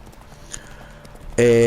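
Horse hooves clip-clop in The Witcher 3, a fantasy role-playing game, as a mount sets off. Soft, steady hoof falls run under a quiet background until a loud, sustained tonal sound abruptly takes over near the end.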